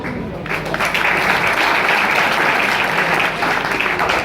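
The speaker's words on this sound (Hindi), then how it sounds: "देखते क्या हो, बजा लो भाई जोरदार तालियां।" Loud, continuous audience applause that starts abruptly and stays thick and even throughout, a wash of many hands clapping together with no voice on top.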